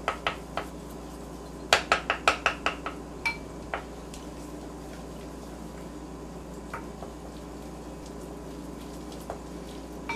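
Leftover potatoes being mixed with parsley in a bowl, giving a quick cluster of sharp clinks and taps near the start, then sparse soft scrapes and knocks over a steady low background hum.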